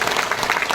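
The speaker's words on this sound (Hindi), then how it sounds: "एक बार खुद के लिए ताली बजा दीजिए" Seminar audience in Ahmedabad applauding, a thick continuous wash of many hands clapping together, fairly distant and even throughout.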